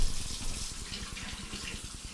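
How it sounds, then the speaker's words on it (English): Hot water runs from a kitchen sink tap in a steady, close splashing flow onto a painted cabinet piece held under it, continuous throughout. "I'm going to come over here, and I'm going to put it under the hot water."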